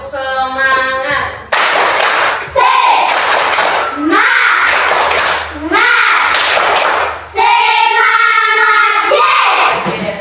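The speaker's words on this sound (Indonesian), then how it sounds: "Tepuk semangat." A classroom group stands and performs a rhythmic clapping chant as an ice breaker, with bursts of claps and young voices chanting in patterned phrases, loud and close, with brief pauses between sections.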